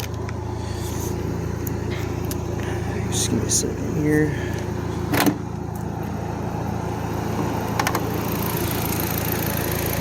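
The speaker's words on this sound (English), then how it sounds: "So really nice and subtle exhaust note, good burble, not a bunch of raspy Honda tuner stuff." A 2002 Volkswagen GTI with a TT225 engine idles nearby, its exhaust giving a steady, low, subtle burble throughout, while someone speaks briefly over it.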